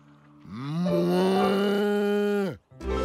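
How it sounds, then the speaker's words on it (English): A cartoon cow lets out a single long, loud mooing bellow lasting about two seconds, steady and resonant before cutting off, followed by a brief new sound starting right after. "Or a cow."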